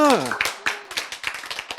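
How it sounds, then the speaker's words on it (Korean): An audience claps in a lecture hall, a quick run of sharp, slightly uneven claps following a brief spoken word. "박수."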